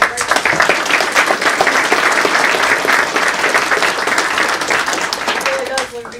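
An audience at a bank branch ribbon-cutting ceremony breaks into loud, sustained applause with crowd murmur, dense clapping that tapers slightly near the end as a voice begins.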